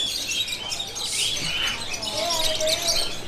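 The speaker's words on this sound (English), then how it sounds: "But it's so noisy. Oh my god. I think they're parakeets, and maybe, is it a paradise bird, something like that?" Parakeets in Thailand calling noisily, a dense wash of high chirps and squawks that runs throughout, fairly loud and continuous, with a faint whistled note partway through.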